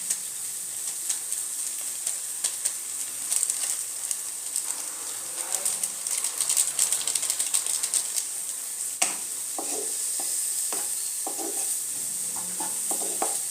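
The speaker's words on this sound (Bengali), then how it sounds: "তড়কা মশলাটা দিয়ে একটুখানি নাড়াচাড়া করে নেব।" Tadka masala sizzling in hot oil in a pan for veg tadka dal while being stirred, a steady close crackle with scattered scraping strokes throughout, no talking.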